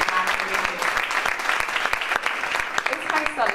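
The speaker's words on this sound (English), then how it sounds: "give Tina and Kenny a round of applause" Audience applause at a community event on domestic violence, a lively burst of many hands clapping close by, with some voices mixed in beneath it.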